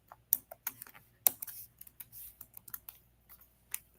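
Keys on a computer keyboard are typed in an irregular run of quiet, close clicks, with one or two sharper taps, and no one speaks.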